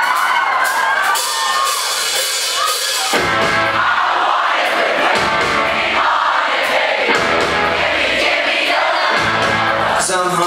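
A concert crowd at The Roxy in Los Angeles cheers and whoops loudly during a show, with shouts rising and falling in waves across the whole stretch.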